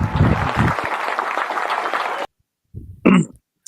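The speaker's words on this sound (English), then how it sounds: "hit the clap button" A clap-button applause effect on a sports podcast, a dense burst of clapping that runs loud for about two seconds and cuts off abruptly, followed by a brief cough-like vocal noise.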